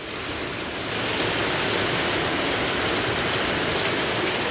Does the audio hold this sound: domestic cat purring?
no